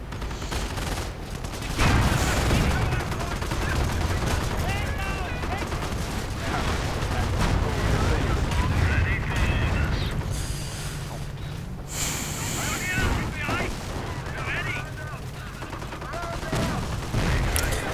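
Machine gun fire raking commandos in a World War II strategy video game, bursts of gunfire and explosions sounding continuously and loudly alongside game effects, with a commentator talking over most of it.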